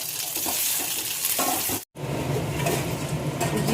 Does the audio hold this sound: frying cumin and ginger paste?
yes